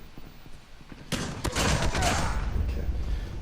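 Shotgun fire in Call of Duty Mobile played on a PC, with a quiet start followed by a sudden loud blast and a rumbling, sustained barrage of gunfire close by.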